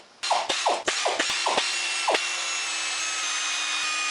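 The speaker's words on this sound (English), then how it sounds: "want to loosen the nuts a little at a time and go in a crisscrossing pattern" A ratchet wrench clicks through a few quick bursts while loosening cylinder head nuts on a Polaris 400 engine, then a sustained high mechanical whir follows, close and loud, with no speech.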